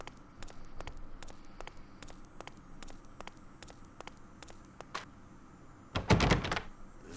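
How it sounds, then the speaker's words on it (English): A locked door rattling as it is tried in a video game, a rapid series of sharp wooden knocks and clicks followed by one heavier thudding jolt near the end. "The door, it is locked tight."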